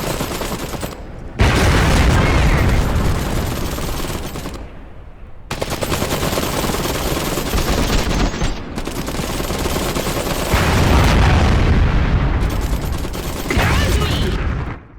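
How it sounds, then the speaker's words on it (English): Iron Harvest M8 artillery mech fires a mortar barrage in the video game, with dense loud blasts and rumbling explosions in long sustained bursts separated by short gaps. "armed with a trio of mortars, it can conduct sneak attacks with a hard-hitting barrage."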